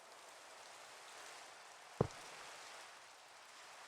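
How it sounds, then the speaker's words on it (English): Rain falls in Minecraft as a steady, faint hiss that holds throughout, broken by a single sharp tap near the middle. "Really? It's raining?"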